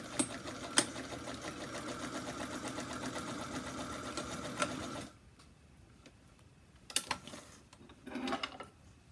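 A domestic sewing machine stitches fabric for a bowl cozy, running in a rapid, even mechanical chatter for about five seconds before stopping, followed by a few brief clicks and fabric handling.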